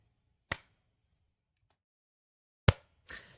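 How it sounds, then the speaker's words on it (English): Three sharp claps ring out in near silence, one alone and then two close together a few seconds later. "I keep clapping."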